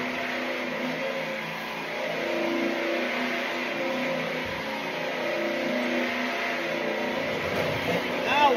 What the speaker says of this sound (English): now I'm going to switch on to my white wheel and put it all together